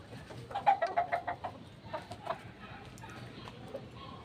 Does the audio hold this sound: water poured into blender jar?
no